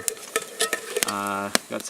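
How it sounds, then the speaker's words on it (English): Eye of round steaks sizzle on a grill at a lakeside camp, a crackling hiss broken by scattered clicks and scrapes of cooking utensils, with a brief vocal sound in the middle. "on the grill, we've got a couple Eye of round steaks, I believe they are."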